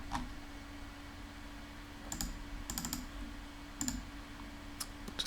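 Quiet synthetic keyboard clicks from a Unity game's typing sound effect, sharp isolated ticks arriving in small irregular bursts over a faint steady hum.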